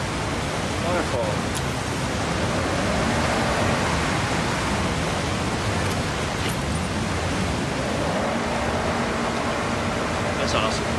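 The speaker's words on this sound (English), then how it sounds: "Waterfall." Waterfall in the video game Forza Horizon 6: a steady, broad rushing wash of water that holds evenly throughout, loud and continuous with no breaks.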